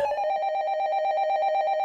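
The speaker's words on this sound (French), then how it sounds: "Le téléphone bleu sonne." A blue telephone ringing with a steady, bright electronic bell tone trilling rapidly and continuously, close and fairly loud, with no voices.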